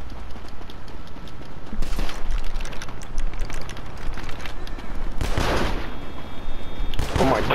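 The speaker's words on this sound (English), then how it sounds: "Shots fired. Shots fired." Gunfire in GTA V during a street police stop, several loud broadband bursts, one near two seconds and a dense cluster around five and seven seconds, over continuous noisy game ambience.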